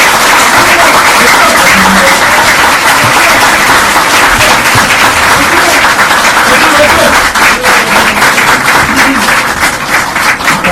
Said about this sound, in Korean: 다시 한번 한동훈 위원장께 뜨거운 박수 부탁드립니다